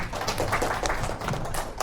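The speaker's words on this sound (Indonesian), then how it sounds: "Tepuk tangan dulu untuk temannya" Students in a classroom give a scattered, fairly faint round of clapping for a classmate, individual hand claps audible as an uneven patter.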